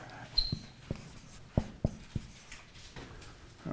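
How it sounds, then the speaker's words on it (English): Bible pages turning in a quiet church, several separate soft papery flicks and rustles spaced irregularly, fairly faint against a hushed room. "Still hear some pages turning."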